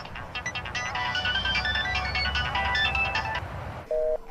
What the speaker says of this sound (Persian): تلفن از زنگ میزند